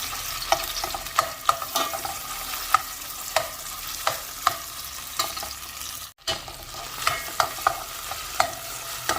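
Tomato paste being stir-fried in a pan with onion, a steady sizzle broken by regular spoon scrapes and stirs, close up, with a brief gap partway through and no voices.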